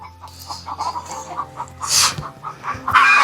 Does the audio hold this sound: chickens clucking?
yes